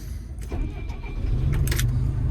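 An old Solar machine's engine starting after fuel filter changes and a fuel leak, a short cranking clatter that builds into a low rumbling idle, close and fairly loud.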